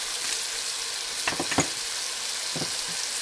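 Garlic with oregano and spices sizzles in a pan for pasta fagioli, a constant bright hiss close up, broken by a few brief scrapes and taps of stirring.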